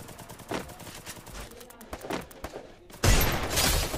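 Gunfire in a video game during a ranked match, scattered shots early on, then a loud sustained burst of rapid fire in the final second, with a faint voice now and then.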